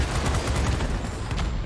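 Continuous dense rattle of aircraft guns firing in the World of Warplanes video game, from a Northrop P-61 Black Widow, a steady roaring burst with no pauses.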